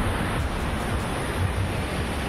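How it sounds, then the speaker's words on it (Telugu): Ocean waves roll onto Colva Beach in Goa at night, making a steady, broad roar of surf that fills the whole stretch. Wind buffets the microphone, and no one speaks. "చూడండి అలలు ఎట్లా వస్తున్నాయి"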